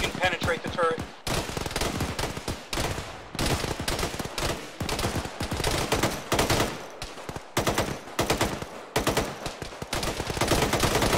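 Rapid automatic gunfire from an MT-LB armored vehicle in a ShackTac military game, sustained bursts and shots rattling loudly and continuously nearly the whole time after a brief pause near the start, with faint voices underneath.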